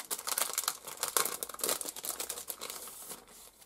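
Paper crinkles and rustles up close as a gift package is pulled open, a busy run of crackling and tearing scrunches that thins out near the end.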